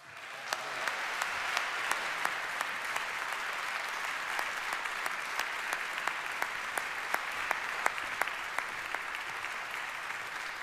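Sustained applause from the audience at the Prix du Québec awards ceremony, a steady, fairly quiet bed of many hands clapping with a few sharper individual claps standing out, lasting about ten seconds.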